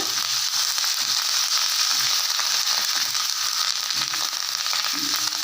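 Curry leaves sautéing in hot oil for a kuzhambu, a dense, continuous crackling sizzle up close with faint low bumps of stirring underneath, and no talking.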